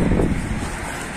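Strong wind buffets and roars against the microphone, a loud rushing noise with no voices.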